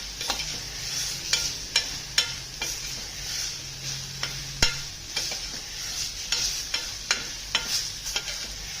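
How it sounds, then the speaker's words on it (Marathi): Spices being sautéed and stirred in a pan for a rustic pigeon pea amti, with a soft steady sizzle broken by repeated sharp scraping strokes of the spoon, close and fairly quiet, without talk. "आता घरात आपले जे मसाले असतात ना त्यातच परतून घ्यायचे छानपैकी."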